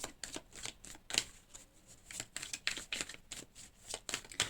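Tarot cards being shuffled and flicked in quick, crisp bursts of papery riffles and slaps, close and dry, with no voice over them.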